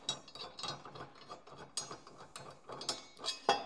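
A socket wrench ratcheting on a blade bolt under a Husqvarna lawn tractor, with quick bursts of clicking pawl strokes and a few sharper metallic ticks, close and fairly quiet, no talking.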